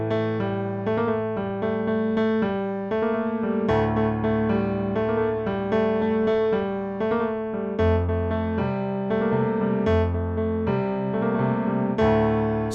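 Piano plays the intro of a song, a steady melodic line over sustained low notes, close and clear with no voices.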